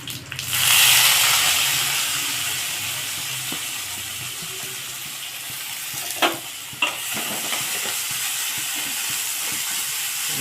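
Thinly sliced cluster beans frying with garlic and cumin in a pan give a steady, loud hiss and sizzle throughout, with a couple of brief clanks as a utensil stirs them.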